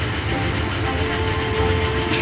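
A cartoon high-speed train rushes past with a loud, continuous rumble and a steady rolling roar. A faint rhythmic clatter runs through it for about two seconds, with no voices.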